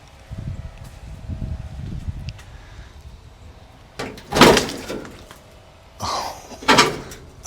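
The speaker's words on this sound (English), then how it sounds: "let's see if this back door opens" The rusty back door of an old VW bus is worked open with a couple of loud metallic clunks and scraping bangs after a quiet stretch of faint low rumbling and rustling.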